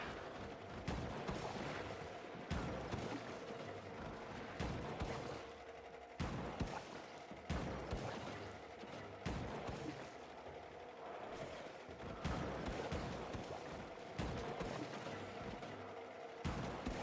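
Gunfire in Warframe aimed at puzzle targets, repeated bursts of shots at a moderate, fairly even pace under quiet game ambience.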